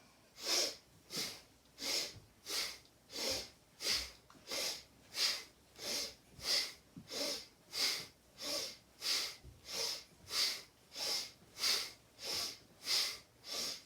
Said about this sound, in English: Inhaling left, exhaling right,